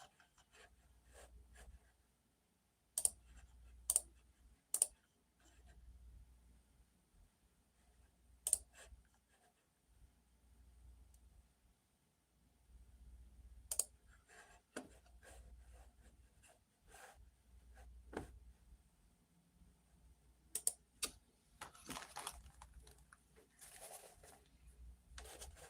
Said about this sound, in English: So it's gonna have that good clicking sound.